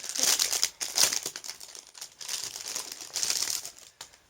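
Crinkly plastic packaging holding small hair clips is pulled open, producing close, continuous crackling and crumpling with a few sharper rustles and no talking.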